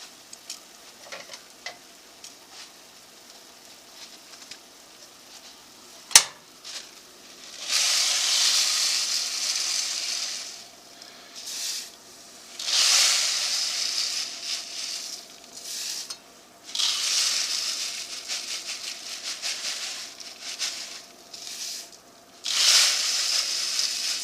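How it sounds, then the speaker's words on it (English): Chicken broth boils in a pot with a bubbling, hissing roar that surges in several long bursts, close and fairly loud, with no voices. "the broth is boiling"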